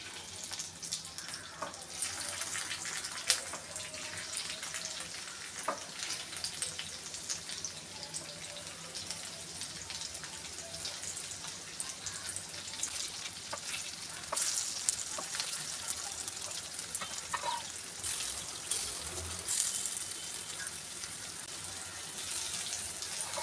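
Taro leaf rolls (alu wadi) shallow-frying in hot oil, a faint continuous crackling sizzle with occasional small pops and clinks, steady throughout with no speech.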